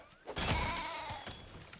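A sheep in the Lego Fortnite video game bleats once, a wavering nasal cry rising near the start and trailing off over about a second, moderately loud amid faint game background.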